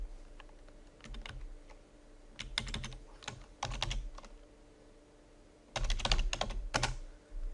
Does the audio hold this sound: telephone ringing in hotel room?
no